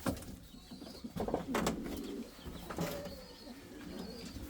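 Soft Indian fantail pigeon coos and rustling in an enclosure, mostly young birds, a few low murmuring calls at moderate distance with occasional faint chirps.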